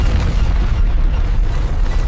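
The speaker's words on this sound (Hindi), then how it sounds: "भयानक विस्फोट ने सब कुछ चीर डाला।" A loud, sustained roaring blast from a coal mine explosion at Jharia, India, fills the whole stretch, deep and rumbling, with no voices over it.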